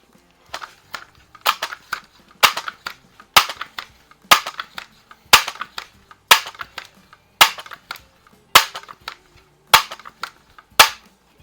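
A Barra Cowboy Series 1866 .177 pump pellet rifle being pumped ten times: a steady run of sharp, evenly spaced pump strokes, close and fairly loud, with no talk.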